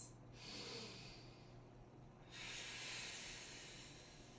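Deep breaths drawn during a yoga stretch in a functional flow class, two long, slow airy inhale-exhale swells, close and quiet, with no talking.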